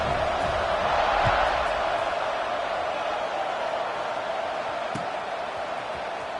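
A steady, broad roar from a stadium crowd in an American football video game, loud and continuous with a faint whoop or two, under a voice talking.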